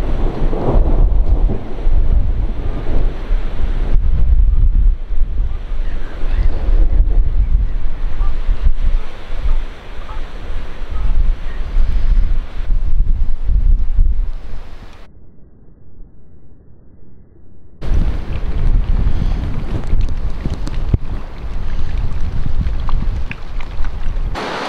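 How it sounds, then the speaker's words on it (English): A hailstorm with strong wind batters a boat during lockdown, a loud roaring, rumbling wash of wind and pelting ice that surges on and off, briefly dropping away before returning just as heavy. "we're going to leave the footage in of the sheer noise of the hailstorm in the boat"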